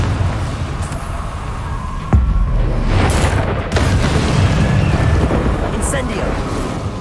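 Confringo blasting spell explosions in the video game Hogwarts Legacy: a sudden deep boom followed by a louder rumbling blast over steady background noise, with a voice calling out between.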